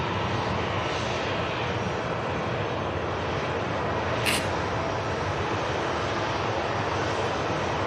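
An EasyJet airliner's engines roar at Manchester Airport, a steady, broad, continuous rumble that holds constant through the whole stretch with no voices over it.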